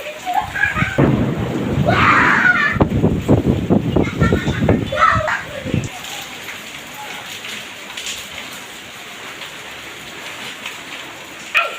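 Thunder rumbles through night rain over Dhaka, with steady rainfall hissing throughout; a stronger burst of low, rolling sound dominates the first half before easing into continuous rain.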